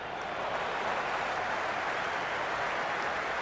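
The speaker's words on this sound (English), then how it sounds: "There's a buzz, a real buzz coming from the stands." A large crowd at a cricket match in a video game roars steadily, a dense wash of cheering and noise filling a stadium, loud and continuous throughout.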